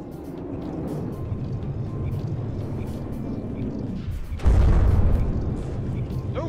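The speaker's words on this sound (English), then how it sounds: "Oh, that was an internal fuel explosion" A muffled boom of an internal fuel explosion on a ship in From the Depths bursts out suddenly partway through, loud and low over continuous engine and battle rumble.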